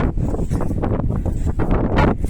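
Loud, steady wind buffeting the microphone with low rumbling gusts throughout, no voices, in the mountains of Madaymen, Kibungan, Benguet.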